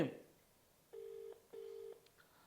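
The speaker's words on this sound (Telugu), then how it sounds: "కౌశిక్ రెడ్డి గారికి మనం ఫోన్ చేస్తున్నాం లైవ్లో" A telephone call placed live during a Telugu TV news broadcast rings out as two steady, clean ringback beeps of equal length with a short gap between them, in otherwise quiet surroundings.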